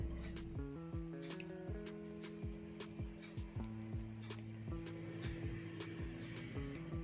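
Chicken is mixed by hand with maida and corn flour, making soft, wet squishing and slapping sounds that repeat at an irregular rhythm, close up and without talk.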